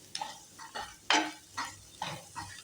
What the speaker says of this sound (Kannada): ಎಲ್ಲ ಚೆನ್ನಾಗಿ ಮಿಕ್ಸ್ ಮಾಡ್ಕೊತಾ ಇದ್ದೀನಿ.